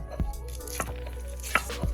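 Garlic being crushed into paste for a Bengali-style chicken curry, heard as about five sharp, irregular knocks, close and loud, with no talking over them.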